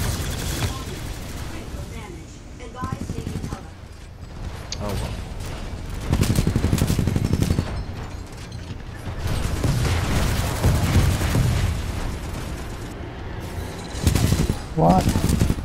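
Gunfire aimed at a ship in the video game Titanfall 2, heard as loud bursts of rapid automatic fire and booming mechanical clatter that come and go across the scene.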